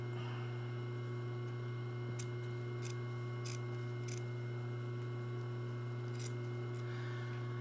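Scissors snip through a garment's fabric collar and seam allowance near the stitching line: about five short, crisp snips spread over several seconds, fairly faint against a steady low electrical hum, with no talking.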